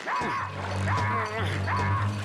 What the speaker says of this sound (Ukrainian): Ой, пес, а я лише хотів питати, де пес.